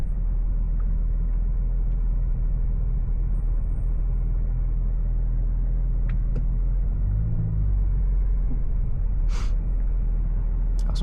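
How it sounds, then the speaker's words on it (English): A 2020 Audi S5 Coupe cruising with a steady low engine rumble and road noise from inside the cabin, with a brief deeper burble partway through and no speech. "When you shift, it'll kind of like fart and burble off the shifts that you do"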